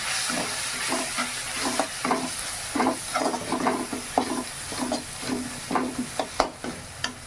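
Spices and salt for potato masala sizzle and crackle in a hot pan while a utensil scrapes and stirs in a quick, uneven rhythm, close and fairly quiet.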